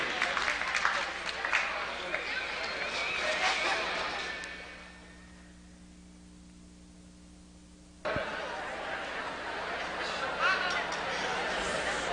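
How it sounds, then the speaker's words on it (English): Spectators at a 1988-89 polo match at Westworld in Scottsdale, Arizona applaud for the players and their ponies. Moderately loud clapping fades to near silence midway, then a second burst of clapping and crowd noise returns. "Have a round of applause again for our players and their ponies."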